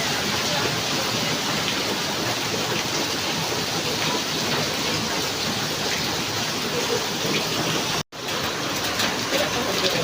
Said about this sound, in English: See, there is a lot of rain happening over here